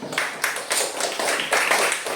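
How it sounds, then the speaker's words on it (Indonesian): Group of people in a classroom clapping in a rapid, uneven burst of applause, fairly close, without talking. "Oke, tepuk tangan dulu."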